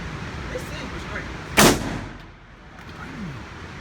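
A single loud gunshot from an M4 clone AR rifle at an outdoor gun range rings out sharply once, with a short decaying tail, and faint background chatter surrounds it.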